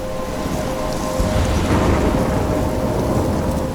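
Steady rain pours with heavy rumbling thunder throughout a stormy night in Life Is Strange, loud and continuous, swelling slightly midway with no voices.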